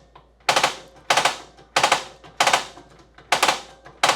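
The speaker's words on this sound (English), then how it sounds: "If we listen real close, we can hear the air purging through there." Air sputters out through an RV stove's gas line before the burner lights, in six or seven sharp hissing bursts about half a second apart, each fading quickly, close and moderately loud.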